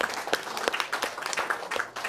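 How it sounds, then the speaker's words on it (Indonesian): Brief burst of audience applause at a book launch for Jokowi's White Paper, many hands clapping together at close range in a cafe. "Tepuk tangan dong buat mereka bertiga"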